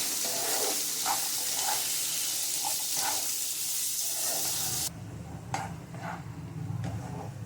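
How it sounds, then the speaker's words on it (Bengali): Potatoes frying in a pan with a little salt and turmeric give a steady, close sizzle, with a few soft clinks of stirring, then a lower, rougher frying hiss after a sudden change midway. "আমি আলুটা ভালো করে ভেজে নেব সামান্য একটু নুন আরও হলুদ দিয়ে"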